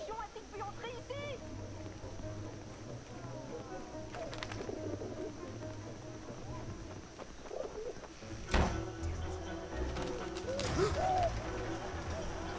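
Cooing from a pigeon-like bird in the 11-11 Memories Retold game, soft repeated calls early on, with a voice speaking over it and a few sharp thumps later.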